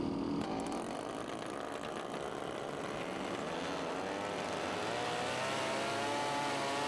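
Unlimited class racing boats roar off the start of a gold trophy race in Madera, 1995, a dense, steady wall of engine noise that holds loud and unbroken throughout.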